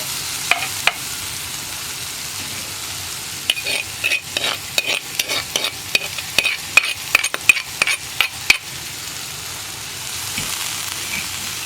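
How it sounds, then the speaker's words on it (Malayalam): Steady sizzling of yam and beans frying in a hot pan, with a burst of sharp scraping and clinking strokes as a spoon stirs it through the middle. "കൈയെടുക്കാതെ ഇളക്കണം, കരിഞ്ഞു കൂട്ടോ"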